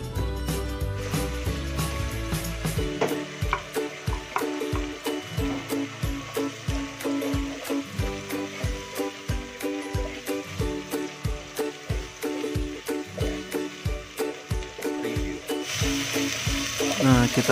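Chopped onion fries in a pan for chicken biryani and is stirred steadily. A loud, constant sizzle is broken by regular scraping strokes of the spoon, about two per second, close up and without talk.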